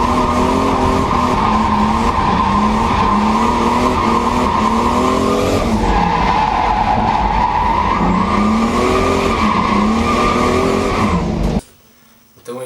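A car drifts through a curve: a loud, sustained engine roar and a shifting tire squeal fill the whole run, then cut off abruptly near the end.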